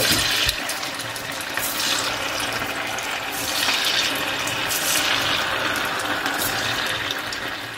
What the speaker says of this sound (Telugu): వేసుకున్న వడల్ని గోల్డెన్ కలర్ వచ్చే వరకు వేయించుకోవాలి